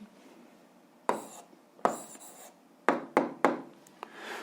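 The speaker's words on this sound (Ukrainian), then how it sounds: "записуємо відповідь, пишемо відповідь" A pen writes out an answer on paper in several short, scratchy strokes separated by pauses, close and quiet, with no one talking.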